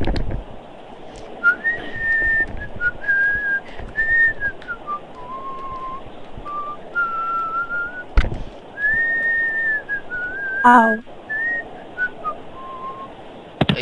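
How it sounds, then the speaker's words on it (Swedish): A person whistles a wandering, melodic tune in several long phrases over a steady background hum, with a few sharp knocks and a brief exclamation between the notes. "det låter ju typ mycket när man visslar"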